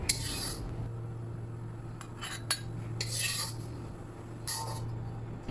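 Roasted chickpea flour scraped out of a metal kadhai, giving a few sharp clinks and scrapes of a utensil against the pan over a steady low hum, with bursts near the start, middle and end.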